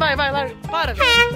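An air horn blares in a street decorated for the World Cup, sounding in close, loud, sustained bursts that overlap with excited shouting voices.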